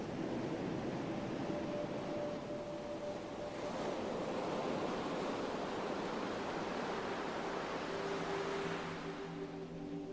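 Low, rumbling ocean waves roll on steadily at night, a dense continuous wash of surf with gentle swells in intensity and no voices.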